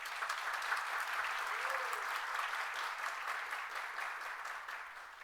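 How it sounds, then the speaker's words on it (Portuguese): An audience applauds steadily at a special legislative session honoring community health agents, with dense continuous clapping from a large crowd that slowly tapers off. "que vocês aplaudissem essa mulher"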